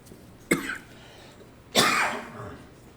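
Two sharp coughs, one short and one heavier and longer about a second later, close to the listener with no talking, during an accounting class lecture.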